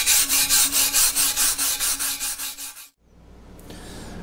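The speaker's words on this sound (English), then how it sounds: "we'll finish with the cleaning the flash rust that popped up here" Flash rust is scrubbed off a sandblasted Farmall Super M tractor part: about a dozen brisk, even abrasive strokes rasp close by in a steady rhythm, then stop abruptly, leaving a quiet room.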